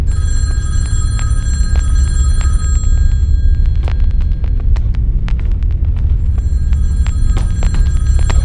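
Telephone ringing in bursts over a loud low rumbling hum, the bell tones coming and going with scattered clicks and no speech.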